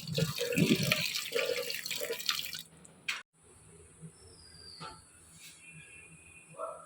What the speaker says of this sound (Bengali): তো একটু ভালো করে ধুয়ে দিই পাতাটা